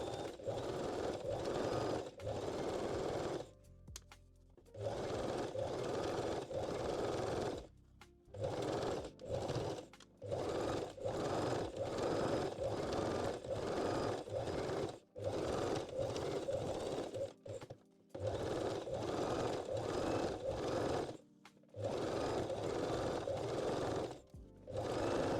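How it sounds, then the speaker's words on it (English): A sewing machine runs a regular zigzag top-stitch along the leg openings of jersey and lace panties, whirring steadily in long bursts broken by short pauses, close and clear with no talk. "At this point we can switch to regular zigzag and top stitch both leg"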